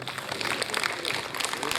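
A crowd claps for runners who finished an ultramarathon at a fitness club's ground, a dense burst of close applause that holds steady for about two seconds, with voices mixed in.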